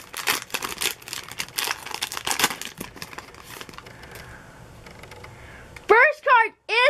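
A 2020 Optic Donruss football card pack is torn open up close, crackling foil wrapper crinkles and rips for several seconds before a person starts talking at the end.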